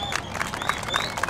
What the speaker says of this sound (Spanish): fuerte el aplauso para mi DJ, fuerte el aplauso